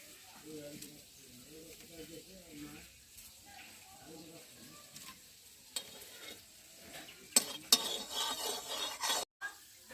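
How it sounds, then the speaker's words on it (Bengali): Semolina frying in ghee in a kadai: soft, faint murmuring voices first, then a burst of louder stirring scrapes and crackling sizzle near the end. "এই ঘিতেই আমি সুজিগুলোকে ভাজবো"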